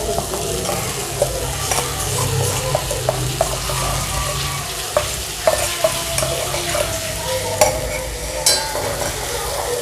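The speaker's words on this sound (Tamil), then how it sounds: "இப்போ உருளைக்கிழங்க நல்லா கிரேவி கூட மிக்ஸ் பண்ணி விட்டுறலாம்." A spoon scrapes and stirs boiled potato through a sizzling vegetable gravy of onion, tomato and carrot in a pan, with irregular clinks against the metal over a steady frying hiss.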